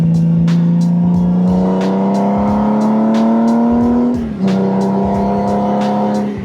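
A motorcycle engine, a Honda Goldwing with Road Sharks exhaust, revs steadily and loudly, pitch climbing, dipping briefly as it shifts, then rising again, close by.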